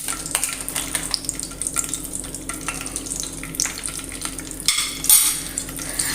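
Peanuts roasting in hot oil and ghee in a pan, a continuous close sizzle with bubbling crackle and occasional scraping stirs and utensil knocks against the pan, no talking.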